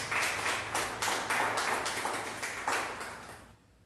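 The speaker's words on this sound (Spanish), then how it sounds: "Dale un gran aplauso, Señor." A church congregation applauds in a rhythmic, fairly faint wave of clapping with regular pulses, steady for a few seconds before fading out.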